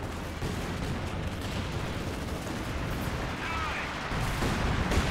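Artillery fire from a light artillery barrage in the Soviet-versus-Wehrmacht war game Company of Heroes 2, a dense continuous rumble of blasts and gunfire that swells louder near the end, with no pauses.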